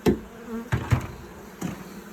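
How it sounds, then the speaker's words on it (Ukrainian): Honeybees hum softly in a low, continuous drone at an open hive, punctuated by a few sharp knocks and clicks nearby; no voices. "Показую, скільки у мене бджолок"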